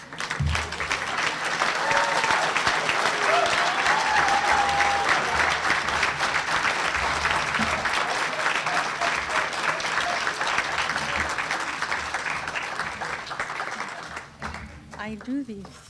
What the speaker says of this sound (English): give all these graduate nurses one big round of applause